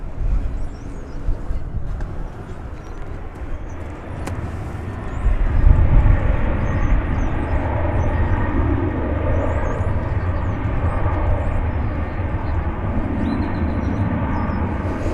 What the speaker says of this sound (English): allow for the takeoff of American Flight 2406 to San Jose, California